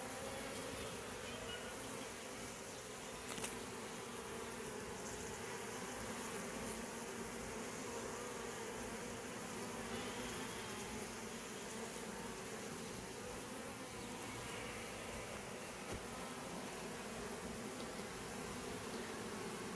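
A honey bee swarm clustered on the ground near a hive box, a continuous dense buzzing from many bees, steady and even throughout with no voices.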